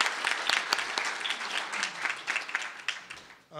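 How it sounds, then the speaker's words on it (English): Audience at a Saskatchewan conservation meeting gives a brief round of applause, a dense patter of many hands clapping at moderate loudness that tapers off after a few seconds. "So a round of applause for them, please, for supporting the meeting."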